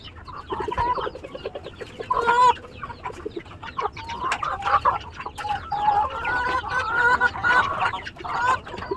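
Laying hens and ducks feeding on a homemade feed mix, a flock clucking steadily and close by, with overlapping calls rising and falling across the whole stretch.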